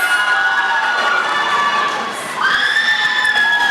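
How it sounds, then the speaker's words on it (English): A large crowd of children cheers and shouts loudly and continuously at a high school ceremony, with high excited voices rising again toward the end. "Round of applause for Miss Zoria Francis."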